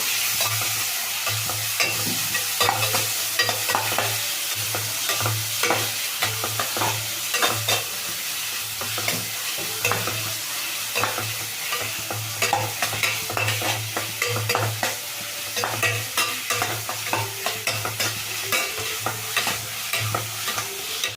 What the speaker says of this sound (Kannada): ಇದು ಎಣ್ಣೆನ ಚಂದ ಫ್ರೈ ಆಗಬೇಕು